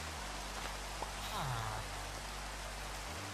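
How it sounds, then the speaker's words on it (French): Rain falling in the Minecraft One Block game, a soft, steady hiss of droplets that stays faint and even, with a brief chime-like game sound. "Faudrait que la pluie s'arrête à un moment."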